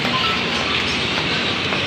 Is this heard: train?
yes